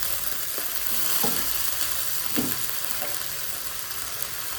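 Mixed vegetables and noodles sizzle steadily in a pan while a utensil scrapes and taps a few times as they are stirred, close and moderately quiet.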